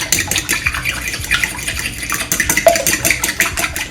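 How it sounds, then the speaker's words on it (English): Two eggs are whisked in a bowl in rapid, continuous wet rhythmic strokes, close and fairly loud throughout with no talking. "I'm just gonna whisk that up."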